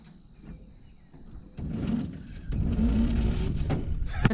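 Starter cranking a 1947 GMC EC303 engine on 12 volts, a steady, fairly slow churning that grows louder partway through and continues without a catch; no speech.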